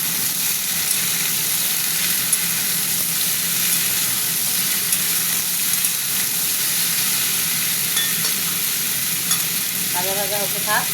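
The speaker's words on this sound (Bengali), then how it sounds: "এই তেলে ভাজা ভাজা হবে।" Potatoes and cauliflower fry in hot oil in a home kitchen, giving a steady, dense sizzle that holds close and even throughout, with faint stirring scrapes near the end.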